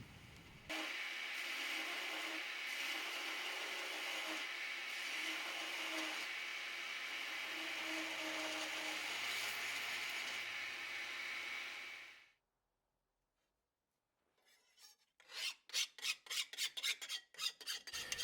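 Belt grinder with a flat platen shaping a Nitro V steel chef's knife blade, a loud steady whirring grind with abrasive hiss lasting about twelve seconds, then silence, then rapid rhythmic rasping strokes toward the end.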